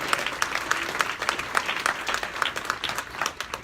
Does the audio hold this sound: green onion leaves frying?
no